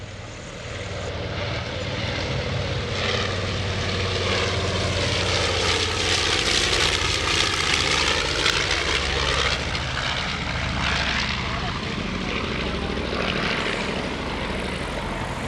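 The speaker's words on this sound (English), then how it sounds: "Coming in from the left, the B-25 of Mid-Atlantic Air Museum." A North American B-25 Mitchell bomber from the Mid-Atlantic Air Museum makes a flypast at an airshow, its piston engines roaring loud and steady as it approaches, passes close and recedes, with no talking.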